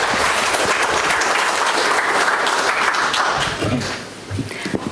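Audience in a forum hall applauding to welcome a Seoul National University professor, with steady, dense clapping filling the room before fading out near the end as a voice begins.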